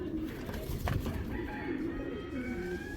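Black-necked pigeons cooing softly nearby, low throaty warbles repeating over a murmuring background.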